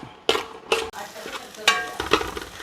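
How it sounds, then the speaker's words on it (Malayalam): Small shallots, about 200 g, frying with salt in a pan and being stirred, with several distinct scraping clatters of a spoon against the pan over a low sizzle. "ഒരു ഇരുന്നൂറ് ഗ്രാം ചെറിയുള്ളി നന്നായിട്ട് വഴരട്ടെ കുറച്ച് ഉപ്പും കൂടി ഇട്ട് നമുക്ക് ഇളക്കി കൊടുക്കാം"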